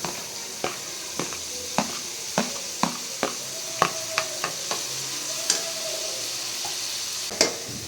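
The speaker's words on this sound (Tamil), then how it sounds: "கட் பண்ணி வச்ச தக்காளியை ஆட் பண்ணிக்கலாம்." Chopped tomatoes tossed into hot oil, frying with a steady sizzle while a spoon strikes and scrapes the pan about a dozen times in an uneven rhythm, close and clear with no talking.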